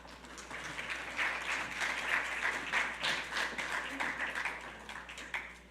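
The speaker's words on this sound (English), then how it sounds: "So big round of applause for SECCD scholars" An audience at the 2026 Mahatma Gandhi Scholarship Awards applauds the SECCD scholarship recipients, with sustained, moderately loud clapping that swells and lingers for several seconds.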